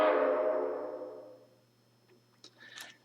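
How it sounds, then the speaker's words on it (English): A single train horn toot starts loud and fades away over about a second and a half, followed by quiet with a few faint clicks. "which is a single toot"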